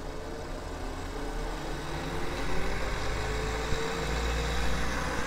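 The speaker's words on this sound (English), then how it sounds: "this is a really neat running motor" A repulsion pulse motor runs steadily at about 24 volts, giving a continuous low hum with a faint rising whine, close and constant, with no voices.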